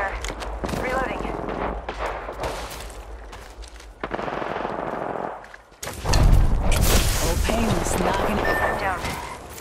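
Video game gunfire in Apex Legends, heavy bursts of automatic fire with sharp pops and blasts, loud and close, continuing in dense clusters under game sounds and turning more intense toward the end.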